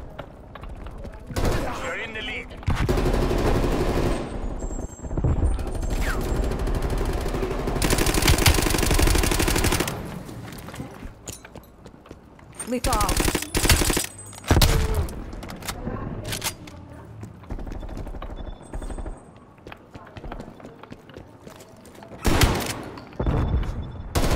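Bursts of gunfire, shotgun blasts and explosions ring out in an online match of Call of Duty Black Ops Cold War, loud and clustered in rapid volleys, with a player talking over the action.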